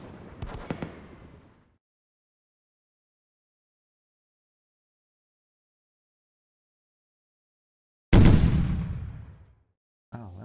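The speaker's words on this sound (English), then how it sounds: "Oh, that was a big gun." A big gun fires in the strategy game Rise of Prussia: after a brief blast and long silence comes a single loud booming shot with a sharp attack and a decaying rumbling tail.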